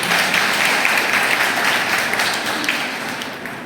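An audience applauding together at a father-daughter class event, a steady wash of clapping that holds loud and even throughout and eases off only slightly near the end.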